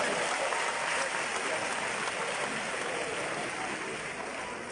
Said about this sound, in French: Applaudissez Ramatoulaye